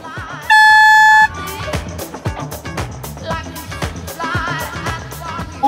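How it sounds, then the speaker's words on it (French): A loud, steady foghorn blast from a sailing race committee boat sounds for under a second, followed by clattering, knocking noises and background chatter. "la corne de brume du comité"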